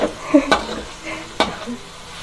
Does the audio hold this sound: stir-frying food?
yes